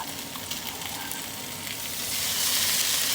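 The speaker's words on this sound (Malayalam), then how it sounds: "ക്രഷ് ചെയ്ത ഇഞ്ചി, വെളുത്തുള്ളി, പച്ചമുളക് ഇടാൻ വേണ്ടി പോവാ." Crushed ginger, garlic and green chili hit hot oil already used for frying chicken for a biryani, giving a steady close-up sizzle that swells louder toward the end, with no talking.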